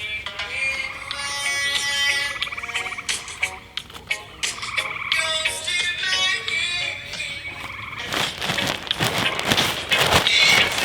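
Frogs croak outdoors beside a garden, a dense, loud chorus of rapid rattling calls that continues throughout, swelling into a busier burst of croaks near the end.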